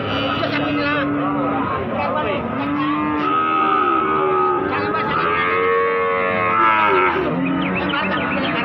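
Simmental (pekon) cattle, breeding heifers, moo repeatedly at a livestock market, their long loud calls rising and falling one after another over a busy crowd with people talking throughout.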